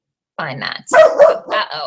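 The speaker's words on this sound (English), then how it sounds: "Sorry for the dog barking." A dog barks in a few short bursts in a home setting during a live chat, mixed in among close talking.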